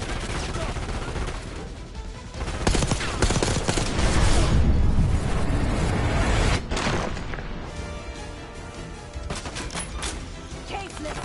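Call of Duty 6 gunfire crackles in heavy bursts of automatic shots and booms, loud and nearly continuous through the stretch, with scattered voices over the battle.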